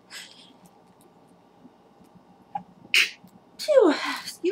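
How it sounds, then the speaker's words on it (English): A quiet room, then a sharp inhaled catch followed by a single loud, explosive sneeze close to the microphone. "I'm going to sneeze."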